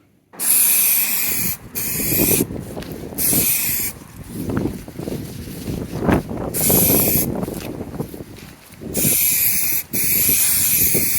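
High-temperature aerosol spray paint is applied outdoors in several long bursts, each a loud, close hiss broken by short pauses between passes, with some light wind noise.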